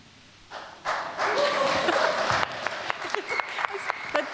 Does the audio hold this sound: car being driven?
no